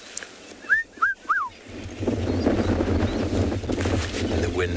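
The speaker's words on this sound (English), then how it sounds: "Distant sounds of the red-chested cuckoo." A red-chested cuckoo calls in the distance at a sunrise safari, three quick rising-falling whistled notes near the start, then wind and a boat engine rumble swell underneath.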